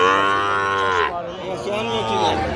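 A young Sahiwal bull calf, about five months old, moos loudly and up close at a busy village cattle market, one long drawn-out call that dips and rises again before fading.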